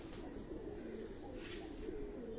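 Low, continuous cooing from many pigeons of mixed breeds fills a rooftop breeding setup in Karachi, a soft steady murmur with no voices over it.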